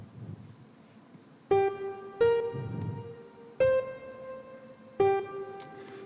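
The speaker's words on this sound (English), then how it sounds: "So by default, the piano sounds like this." Plain, unprocessed default piano patch in music production software, with no compression or effects: four separate sustained notes or chords struck about a second apart at moderate level, each ringing with clear harmonics and no talk.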